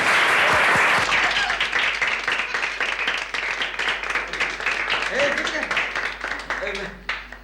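A roomful of people bursts into loud, sustained applause that slowly thins into scattered claps, with a voice speaking over it briefly near the end.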